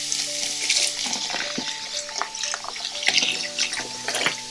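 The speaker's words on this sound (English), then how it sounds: "Pour in the vinegar." Vinegar pours over vegetables in a kitchen sink to soak them for a stir fry, giving a steady splashing, trickling liquid sound with a few clinks. The sound is loud and near, with no talk.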